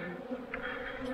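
Robbing honeybees swarm around a hive entrance, a dense, steady buzz of many wings droning close by without pause and with no voices.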